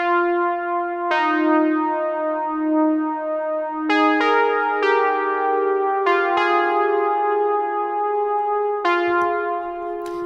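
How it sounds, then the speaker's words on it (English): A brassy synth lead from a TimeCop sample pack plays a slow melodic line of bright, harmonically rich sustained notes, each new note entering crisply with slight echo, with no voices. "So this one is a kind of a brassy lead."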